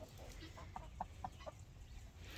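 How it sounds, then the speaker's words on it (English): Several short, soft clucks from a chicken in a steady, spaced rhythm, fairly faint against a low background rumble. "the dogs love it because the chickens make sounds."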